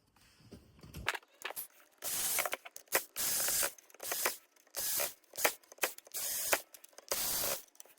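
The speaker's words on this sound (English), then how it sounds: "we want to use our Phillips head, and we want to get those remaining screws screwed back in" Phillips screwdriver driving the remaining screws back into a Dyson Gen5 cordless vacuum during reassembly, heard as a series of close, short bursts of scraping, ratcheting turns separated by brief pauses.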